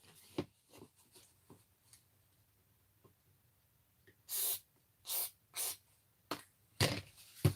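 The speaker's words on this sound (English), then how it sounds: "disc thing is very stiff as well, so that's going to need a bit of the old WD-40." WD-40 is sprayed onto the stiff turntable disc of an old radio. Quiet clicks and handling taps come first, then three short, sharp hissing spray bursts and a few more taps.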